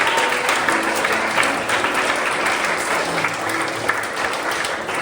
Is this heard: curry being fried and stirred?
no